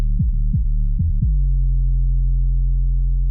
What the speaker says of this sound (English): I landed on the Super Mario 808 Crazy Tune C from Splice. Sounds very similar, especially if we apply that same EQ8.